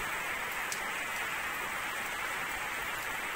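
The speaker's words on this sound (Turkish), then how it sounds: "Şu an saat 7'ye geliyor akşam üzeri ve yağmur yağmaya başladı." Steady rain falls on an early evening as the sky clouds over, a dense, continuous hiss with faint scattered drop ticks, close and unbroken throughout with no voices.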